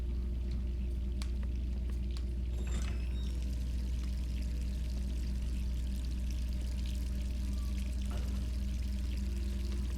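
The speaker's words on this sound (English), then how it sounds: "Apparently she left the water running." Tap water left running in a Resident Evil 3 Remake game scene, a steady continuous pouring hiss alongside a low ambient hum, with no one talking.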